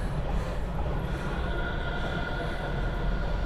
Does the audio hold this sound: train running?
yes